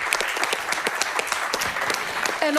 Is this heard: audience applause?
yes